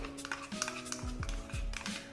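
A spoon clinks and scrapes while salt and chaat masala are stirred into a ground mixture in a bowl or pan, in several irregular metallic strokes with no talking.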